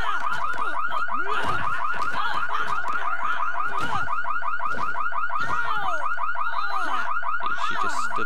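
A car alarm blares inside The Sims 3 during a burglary, cycling a rapid warbling electronic whoop over and over at steady loudness for the whole stretch, with no other sounds around it.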